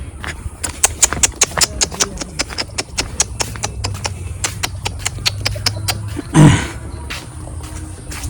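A cow walks along a path toward a market, its hooves striking in a steady, fairly close clip-clop rhythm, while insects chirp faintly behind and one brief louder thump or call breaks in.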